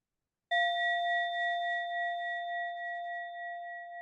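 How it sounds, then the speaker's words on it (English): A single meditation bell is struck once and rings out with a clear, pure tone that sustains and slowly fades, alone in silence. "I'll invite the bell to start."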